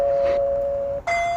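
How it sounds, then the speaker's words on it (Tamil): An electronic calling bell at a house door rings loud and close, one sustained tone followed by a brief break and a second tone, with no talk. "பாத்தீங்களா மறுபடியும் காலிங் பெல் சத்தம்."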